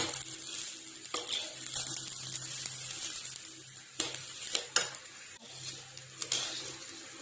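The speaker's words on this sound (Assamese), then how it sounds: "পোলাওৰ কাৰণে চাউলটো ফ্ৰাই কৰি আছোঁ।" Rice fries in a pan for pulao with a soft, steady sizzle, punctuated by scraping stirs and occasional metallic clinks of a spoon against the pan, fairly quiet and close with no talking.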